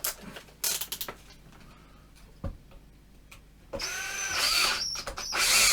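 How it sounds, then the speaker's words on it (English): A power drill whirs loudly and steadily, with a brand-new bit boring a switch-sized hole after a pilot hole, following a few quiet clicks and taps, with a sharp knock beforehand. "So if I just put a quick hole in there, pilot hole, and then bigger drill bit."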